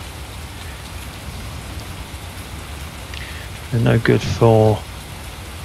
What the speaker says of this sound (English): And it started to rain, which is all right for this and ploughing.